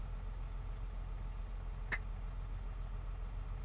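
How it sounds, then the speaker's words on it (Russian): Steady low rumble of a tractor engine idling as it warms up in Farming Simulator 22, even and continuous, with one brief click partway through. "Немножко сейчас прогреем трактор"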